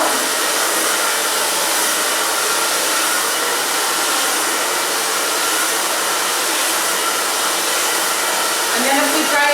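A hair dryer blows steadily and loudly while drying a section of a chunky bob during a haircut, with a continuous broadband whoosh that runs the whole time and changes pitch a little near the end.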